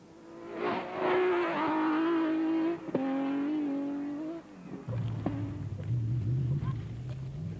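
Race car in the 2005 Lesotho Sun 400 on a short circuit, engine roaring loud and close as it accelerates and shifts, then dropping to a lower rumble as it passes, under a commentator's voice.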